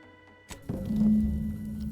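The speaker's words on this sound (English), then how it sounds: "The microwave is starting." A microwave powers on in the game The Outer Worlds 2: a sharp click followed by a rising, steady low electrical hum that settles into a constant drone, heard alone.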